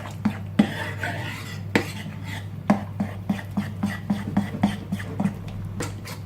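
Whisk or spoon clatters against a bowl while potato fritter batter is stirred with added water, a steady run of sharp clinks and scrapes, close and fairly loud, with a low hum underneath.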